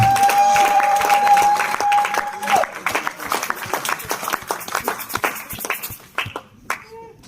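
A church congregation clapping and cheering for Jesus during a French-language service, loud dense applause with a sustained voice at first, then thinning into scattered claps and tapering off.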